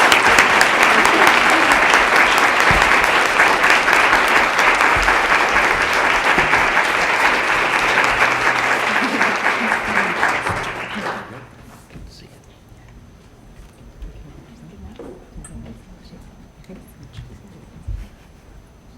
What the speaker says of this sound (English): Could we give them a rousing round of applause?